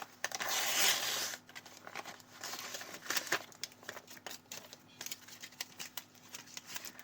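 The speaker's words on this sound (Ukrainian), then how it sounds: "я хочу першим відкрити ось цей великий пакетик" Paper crinkling and rustling as a packet is torn open, a loud burst at first, then intermittent crackles and crisp handling noises close by.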